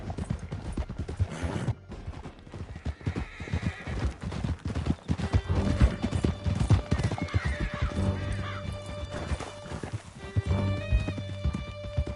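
Horses gallop and neigh loudly in Red Dead Redemption 2, with rapid hoofbeats under repeated whinnies and a dense backdrop of action sounds and music.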